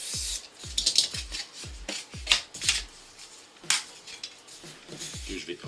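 A blade cuts a 5 mm Depron polystyrene foam sheet into sections, giving a series of sharp, close scraping strokes in an uneven rhythm, about a dozen short rasping cuts with pauses between them.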